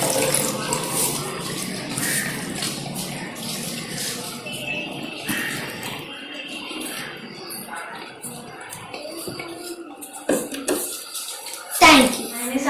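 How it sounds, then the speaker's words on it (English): Water is poured from one glass into another to decant it off sand sediment, a continuous trickle of pouring with someone speaking over it. "Decantation is we should pour the water into another glass without disturbing the sediment"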